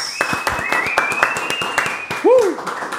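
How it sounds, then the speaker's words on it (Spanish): An audience applauds for John Kevin González with a steady patter of claps over three seconds, a sustained tone running beneath and a voice rising briefly near the end. "Un aplauso para John Kevin González."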